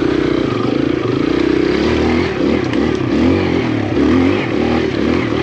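A new lightweight 4-stroke full-size-wheel dirt bike engine runs loud and close on its first ride, a steady throbbing drone with rising revs and some clattering, with no one talking.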